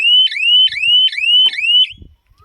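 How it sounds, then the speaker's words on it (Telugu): A buzzer on a solar-powered agricultural farm fence sounds four loud, repeating rising electronic whoops in steady rhythm, close and alone, stopping near the end with a faint low knock. "ఇదే సౌండ్తో మనకు బజర్ అవుతుంది"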